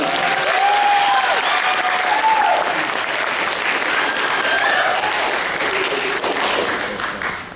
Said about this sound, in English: your 2026 graduating seniors, guys. Give them a round of applause.